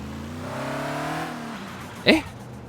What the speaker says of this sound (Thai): ทำไมเสียงเครื่อง ไม่เหมือนกระบะเลยฮะ